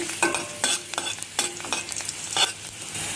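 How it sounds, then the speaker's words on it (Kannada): Garlic fries on a low flame for a traditional chutney, a close hissing sizzle punctuated by several quick scraping stirs of the pan. "ಬೆಳ್ಳುಳ್ಳಿ ಚೆನ್ನಾಗಿ ಫ್ರೈ ಆಗ್ತಾ ಇದೆ"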